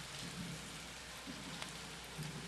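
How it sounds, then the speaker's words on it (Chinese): Rain falling steadily on an outdoor water-skiing competition course during a cold, wet national team selection event, a soft continuous patter with faint low rumbles and no talk. "因为下雨的关系，这没有办法。"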